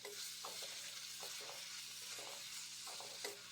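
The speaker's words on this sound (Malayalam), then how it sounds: "കുറച്ച് നേരം എണ്ണയിൽ ഫ്രൈ ആവട്ടെ ഇത്." Bitter gourd fries in oil with a soft, steady hiss and occasional scrapes of a stirring spoon, fairly quiet and with no voices.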